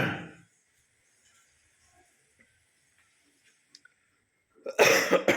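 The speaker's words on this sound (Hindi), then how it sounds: "खांसी बहुत हो गई दोस्त" A single harsh cough at the start, then near silence with faint ticks, ending with another loud burst of coughing close by.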